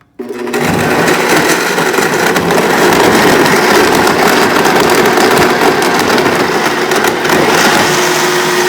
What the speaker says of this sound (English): All right, blendy time.